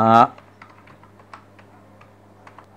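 Someone types on a computer keyboard, producing a run of light, irregular key clicks close by. A brief voiced sound comes just before the typing begins.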